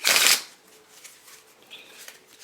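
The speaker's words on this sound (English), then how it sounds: "And that was a terrible shuffle." A deck of bicycle-stock playing cards with an air-cushion finish riffles in one loud, quick shuffle burst at the start, then settles into faint room noise.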